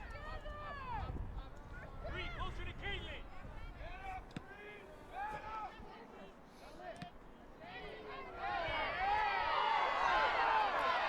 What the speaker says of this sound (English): the displeasure from the crowd could be heard